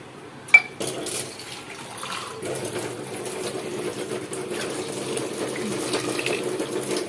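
Water running and pouring into a pot of lentils, a steady trickling wash with a sharp clink near the start and faint kitchen noise around it.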